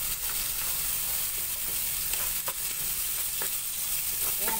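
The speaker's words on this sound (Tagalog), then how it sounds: "igisa-gisa lang natin hanggang sa madurog na yung kamatis natin para magkaroon na siya ng juice" Garlic and tomatoes sauté in a pan with a steady, close sizzle, and occasional stirring scrapes cut through the frying.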